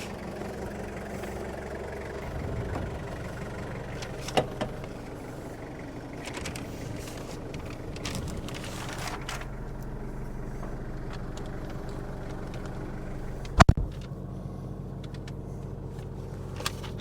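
A 1991 Toyota Hilux LN106 double cab drives around the block, with a steady low engine drone and road rumble heard from inside the cab. Occasional small clicks and one sharp knock break through.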